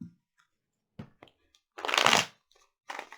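A tarot deck is shuffled in a few short riffles, with one longer riffle in the middle, close and alone.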